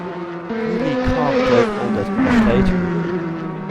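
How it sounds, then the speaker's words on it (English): A Honda HSV GT500 race car powers through a hairpin at the Autopolis circuit in Oita, its engine a loud, steady, harmonic drone that rises and falls with the throttle, up close throughout. "GT500s make a beautiful sound, in my opinion, as we just drive through the hairpin"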